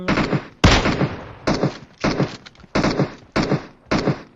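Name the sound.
gunshots in a video game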